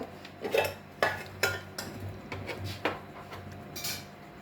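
Jaggery going into poha roasting in a pan, metal spoon clinks and scrapes against the pan in a handful of sharp, irregular knocks, close and moderately quiet with no voices.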